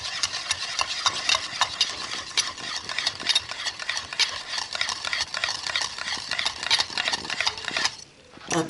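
Eggs for a quiche beaten quickly by hand in a bowl, a fast, continuous run of sharp clinking strokes at close range, easing off briefly near the end.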